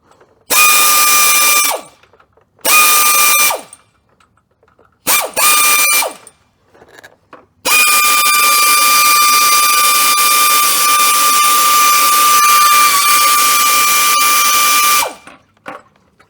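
An air wrench works on a 1999 Dodge Ram 1500, firing in three short loud bursts and then one long sustained run with a high whine, close by and with no talk.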